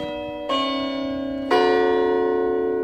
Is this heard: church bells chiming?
yes